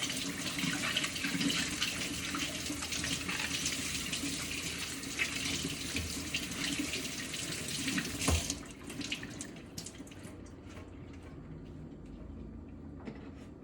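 Tap water runs steadily into a kitchen sink while bok choy is rinsed under it, a continuous close splashing that cuts off near the end, leaving only faint drips and small handling noises.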